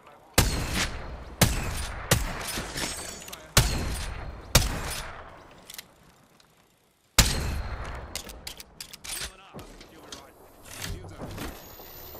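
Gunfire in the Apex Legends battle royale game, with several sharp, loud shots in bursts spread across the scene, a quiet gap midway, then more rapid firing, all under a player's tense voice.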